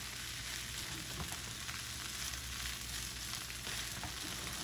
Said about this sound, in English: when we are toasting basmati rice